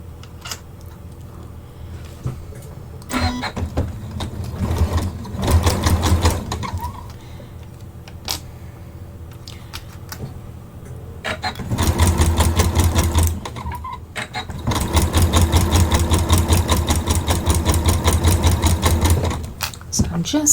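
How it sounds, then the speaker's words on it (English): Sewing machine stitching fabric and ribbon together for an embroidery edge on a mesh lingerie wash bag, running in two close, steady bursts of rapid mechanical stitching separated by a short pause with faint handling noise. "I'm just stitching my fabric and that ribbon together"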